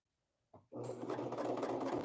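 A sewing machine trims the fabric edge as it sews leggings, starting with a brief click before settling into a close, steady running whir.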